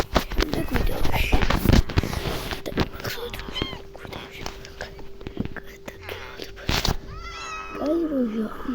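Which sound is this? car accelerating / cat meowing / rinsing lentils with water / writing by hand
cat meowing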